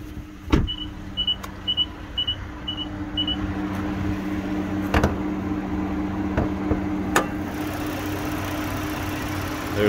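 2011 Mazda CX-9 AWD engine idling with a steady low hum, joined by a few brief chirping beeps early on and occasional sharp clicks and knocks nearby.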